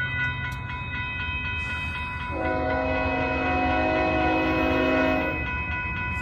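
An Amtrak P42 locomotive horn on the California Zephyr sounds a long steady chord over the rumble and clatter of the passing train, loud and fairly close.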